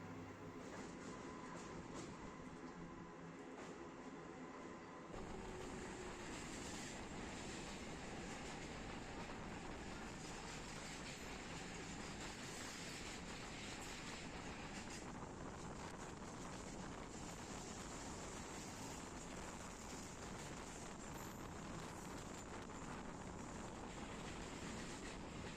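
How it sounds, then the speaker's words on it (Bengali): A Howrah–Digha local train rolls into Bagnan station, giving a steady, low rumble of wheels and carriages that stays continuous and fairly quiet throughout, with no talking. "আমাদের ট্রেন ঢুকছে বাগনান স্টেশনে।"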